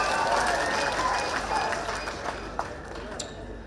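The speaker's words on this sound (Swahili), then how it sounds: "Wapi makofi ya Shadrack Mwiti." A crowd claps at a public political gathering in Kenya, dense applause that gradually thins and fades.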